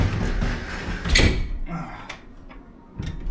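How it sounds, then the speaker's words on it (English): A heavy ferry cabin door is pulled shut with effort, giving one loud thud about a second in, followed by quieter rattles and a second bump near the end. "hold this while I take all the strength I got to close this door"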